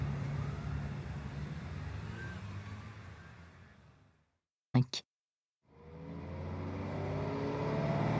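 A city bus drives along with a steady, broadband engine and road rumble, which cuts out into near silence halfway through with a couple of brief knocks, then the drone returns and builds.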